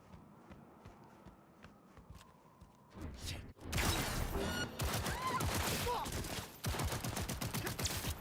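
Lexington pistol fired in the video game Cyberpunk: after quiet footsteps and shuffling, a burst of loud sharp shots cracks out in quick succession, with dense impacts continuing to the end.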